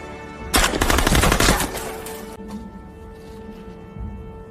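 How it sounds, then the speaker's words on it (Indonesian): A rapid, loud burst of gunfire in a war film set in Stalingrad rattles for about two seconds, then fades into a quieter lingering echo and background hum. "mendengar suara tembakan yang berasal dari kejadian Nikiforov"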